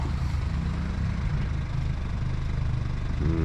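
A car pulls up and idles nearby, its engine giving a steady low rumble with a constant hum, with no other noises or voices.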